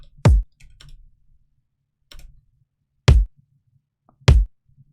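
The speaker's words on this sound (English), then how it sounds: "let's just start with the kicks" Layered vintage kick drums play a sparse, simple rhythm: three punchy, booming thumps spaced about a second or more apart, with quieter soft ticks and taps between them in otherwise dry silence.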